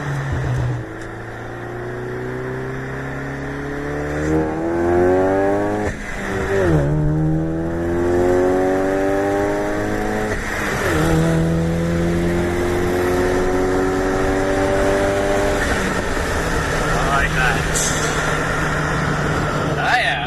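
Engine of an Acura TL SH-AWD with a six-speed manual climbing steadily through first gear toward 5,500 rpm, a loud rising drone that drops briefly on shifts and climbs again, heard up close for about twenty seconds.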